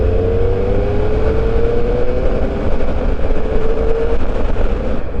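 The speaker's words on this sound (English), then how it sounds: "how's this for torque? 5th gear, 50 Ks, wide open." A 2021 Triumph Speed Triple 1200 RS motorcycle pulls wide open in fifth gear from low speed, its engine note rising steadily and loudly over heavy wind rush before easing off near the end.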